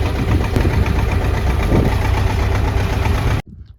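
A fishing boat's engine idles close by as the boat arrives, a loud, steady low rumble with slight knocking that cuts off abruptly near the end.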